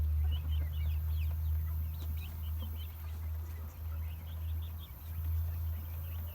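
Chickens cluck in short scattered bursts over a steady low hum, several birds calling near and far with no talking.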